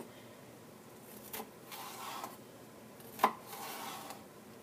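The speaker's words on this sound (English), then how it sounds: "So I'm making strips of them, thin vertical strips, peppers." A knife slicing a red pepper into thin vertical strips, with a few soft, widely spaced cuts and one sharper tap on the board against quiet room noise.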